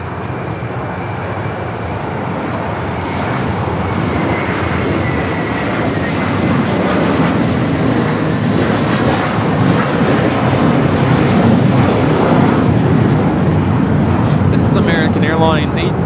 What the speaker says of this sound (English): Airlines 812 taking off to Chicago on the A321.